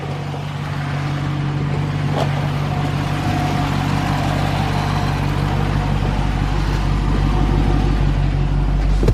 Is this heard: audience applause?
no